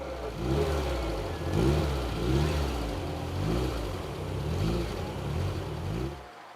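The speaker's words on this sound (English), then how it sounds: "Spinning on the grass as he tries to progress." An off-road 4x4 engine revs repeatedly in rising and falling surges as its wheels spin on grass at a 4x4 obstacle event, heard steadily from a moderate distance.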